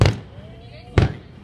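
Fireworks bursting at a Fourth of July celebration in Arlington, Texas: two sharp, loud booms about a second apart, and a third beginning at the end, with a faint rising whistle between the first two.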